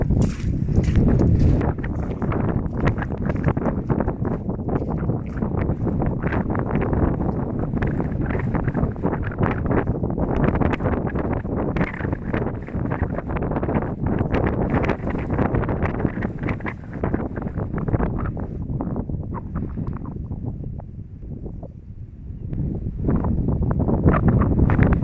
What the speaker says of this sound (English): It's wet, it's windy.